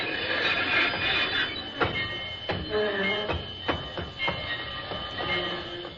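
A train rumbles along while stopping, with rhythmic clacks of wheels over rail joints and occasional metallic squeals, steady and fairly close.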